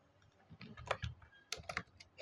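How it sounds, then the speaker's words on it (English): Quick bursts of keystrokes on a computer keyboard while writing CSS code, a handful of close, crisp clicks in two short clusters, fairly quiet. "Now I will just type in this UL tag and type in the adjacent siblings"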